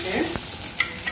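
Asafoetida and mustard seeds tempering in hot oil for a sundal, a close, bright sizzle with a few light stirring scrapes and pops over one brief moment.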